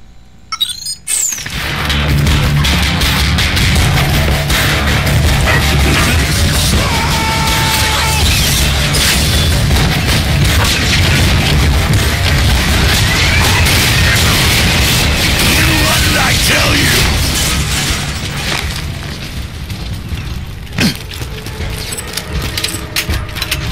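Dense gunfire and explosions in the video game Borderlands 2, a loud continuous barrage of shots, booms and mechanical clatter that swells up after a brief quiet start and stays intense throughout.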